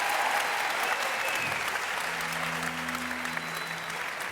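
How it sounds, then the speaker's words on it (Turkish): A studio audience on a Turkish TV talk show breaks into steady, continuous applause as guest performers come on, a dense even wash of clapping with a faint low hum underneath. "Alkışlar onlar için"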